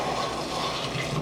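Tap water runs in a steady rushing stream while a doll is washed, a brief continuous splashing flow with no voices.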